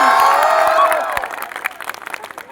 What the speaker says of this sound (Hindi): ताली बजाओ, तो मिलके बजाओ एक बार